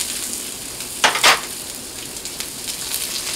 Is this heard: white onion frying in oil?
yes